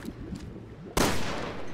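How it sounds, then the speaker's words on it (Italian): Gunfire in the video game Resident Evil Revelations 2, set in sewers: after a quiet muffled stretch, a sudden loud blast of shots erupts and keeps roaring to the end. "Ah no, sono spari."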